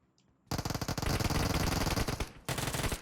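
Rapid automatic gunfire in the mobile battle-royale game PUBG Mobile, a loud, sustained burst of shots starting suddenly, briefly easing near the end, then resuming with no talk over it.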